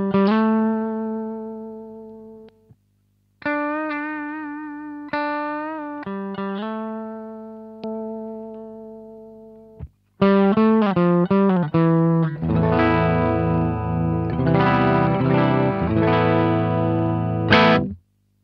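Electric guitar through an Electro-Harmonix LPB-1 boost pedal, with a warm, driven tone, plays sustained notes and chords, pausing briefly, then ringing out in a thicker, louder strummed passage.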